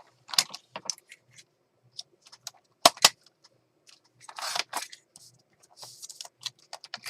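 Scissors cut paper for a botanica journal in a quiet room, with a scattered series of close, crisp snips and rustles, a couple of louder sharp cuts near the three-second mark.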